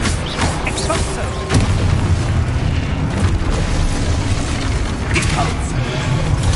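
An Expulso explosion spell in a Hogwarts video game goes off with a loud, booming blast and crackling debris, surrounded by other spell effects and rumbling action.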